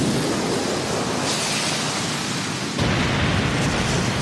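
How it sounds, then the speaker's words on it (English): A fire style jutsu blast from the Naruto Shippuden anime roars as a loud, sustained rushing blaze that swells sharply partway through and fills the whole moment, with no speech over it. "his fire style jutsu is crazy"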